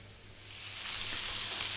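Pork ribs sizzle in a pan over gentle heat, a steady hiss of frying that swells over a couple of seconds and stays close and fairly loud.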